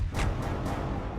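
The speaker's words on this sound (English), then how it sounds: "Let's use the flank barrage on that one." A flank barrage attack in the space strategy game Halcyon 6, a short booming burst of rumbling blasts with quick successive hits, loud and close.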